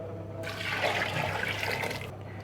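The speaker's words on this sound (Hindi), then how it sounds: "साथ ही मैं इसमें 4 जो है ना कप पानी के डाल दूँगी।" Four cups of water poured into a cooking pot for pulao, a continuous close gushing pour lasting about two seconds, starting and stopping abruptly, without speech.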